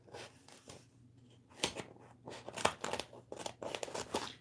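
Scissors cut around a pine cone design on a paper transfer for a Christmas sign, producing a run of crisp snips and crackly paper rustles up close, irregular and quiet, with no talk.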